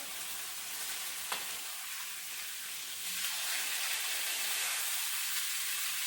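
Pork ribs with pickled cabbage sizzle and hiss steadily in a hot pan, with a brief clatter as the meat is turned and the frying swelling louder afterward; no talking.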